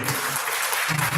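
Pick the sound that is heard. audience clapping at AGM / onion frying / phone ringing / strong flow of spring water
audience clapping at AGM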